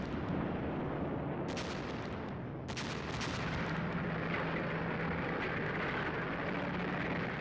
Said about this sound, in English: Then there was a devastating artillery bombardment.